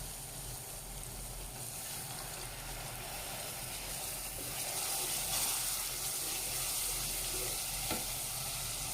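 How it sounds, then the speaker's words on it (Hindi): A cup of water goes into a hot pan of fried white lentils (mash daal), giving a steady hiss and sizzle that grows a little louder midway, with no talking. "अब मैं यहाँ पे पानी ऐड कर रही हूँ"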